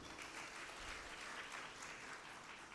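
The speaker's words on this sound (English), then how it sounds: "a round of applause for the audience" Audience applause fills a conference inaugural session hall, a steady, dense wash of clapping held at a fairly low, even level with no voices over it.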